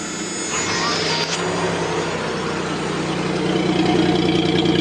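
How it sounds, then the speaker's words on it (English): A car engine idles steadily with a low, even rumble, close and fairly loud, with no change in pitch throughout, the engine still cold. "so you guys can see the motor running nice and smooth"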